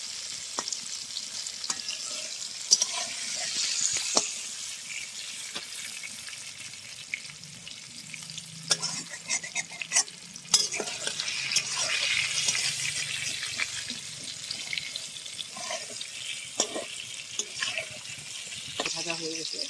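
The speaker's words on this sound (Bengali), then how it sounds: "ভাজা হয়ে গেছে, এখন আমি পটলগুলো নামিয়ে নেব।" Pointed gourd (potol) fries in oil in a pan while being stirred, giving a steady crackling sizzle broken by scraping and clicking utensil strokes throughout, with faint voices in the background.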